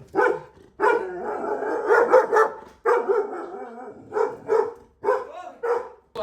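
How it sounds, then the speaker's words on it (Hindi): A German Shepherd puppy or Labrador barks repeatedly up close, loud bursts in an uneven rhythm with short pauses between them. "भौंकने लग गया वो तो यार"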